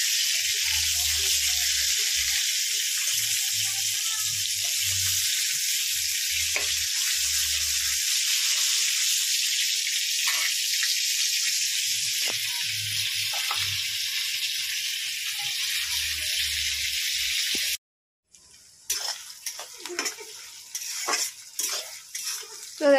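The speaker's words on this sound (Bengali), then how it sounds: "মটনের জন্য পেঁয়াজ ভাজছি" Onions frying in a pan for a village-style mutton curry, a steady loud sizzle with occasional stirring and utensil clinks, cutting off near the end to quieter scraping and clatter.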